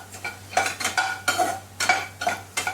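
Gram flour (besan) roasting dry in a pan while a spoon stirs it in a quick, regular rhythm of scraping strokes with a faint sizzle beneath, close and with no talking.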